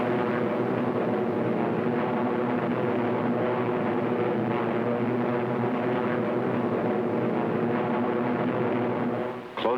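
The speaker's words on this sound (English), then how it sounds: "The Thunderbolts climb steadily over the channel into hostile skies." Steady, continuous drone of P-47 Thunderbolt fighter planes climbing over the English Channel in wartime, a constant engine hum holding level throughout with no voices.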